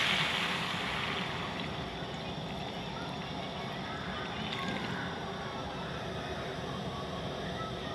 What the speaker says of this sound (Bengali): এবার আমি এর ভিতরে জল দিয়ে দিলাম